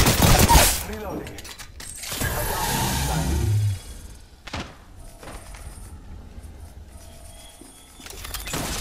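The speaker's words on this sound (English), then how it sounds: "Reloading." Weapon reload in a shooter video game: mechanical clicks, ratcheting and metallic clacks, with a burst of louder action early on and scattered sharp clicks afterwards.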